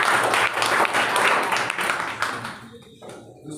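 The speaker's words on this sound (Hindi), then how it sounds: "ताली बजा दो।" An audience claps at a school story presentation: a dense burst of applause that holds steady, then thins out and fades over the last second into near quiet.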